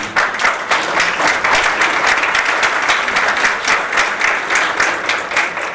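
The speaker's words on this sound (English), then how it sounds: "A lot of applause." An audience at an IAMOT 2023 conference hall bursts into dense, loud applause, many hands clapping continuously at close range with no speech over it.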